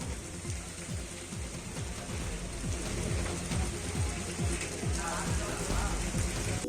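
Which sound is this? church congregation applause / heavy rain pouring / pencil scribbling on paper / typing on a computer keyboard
heavy rain pouring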